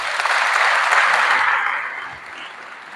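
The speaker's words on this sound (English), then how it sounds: "So let's give them a round of applause." An audience claps at an education press conference. The applause is dense and sustained, then thins and fades after a couple of seconds.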